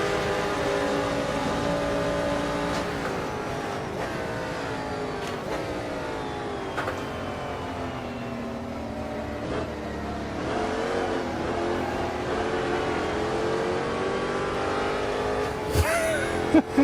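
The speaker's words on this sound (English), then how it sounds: "Oh, that's a Ferrari." A Ferrari race car from the 1960s roars past in a racing simulation on the Kyalami circuit, its engine tone rising and sweeping through gear changes over the steady drone of the player's own car.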